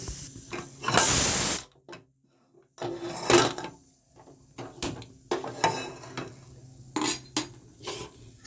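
A metal pressure cooker lid is fitted and locked over simmering dal for sambar, giving close, sharp clanks, clicks and scrapes in short bursts with quiet gaps between, and a brief hiss near the start.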